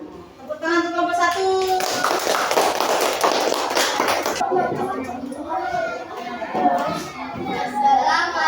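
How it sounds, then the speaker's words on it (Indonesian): Primary school children clapping together for a group in a classroom, a few seconds of lively clapping framed by children's voices speaking before and after. "Tepuk tangan untuk kelompok"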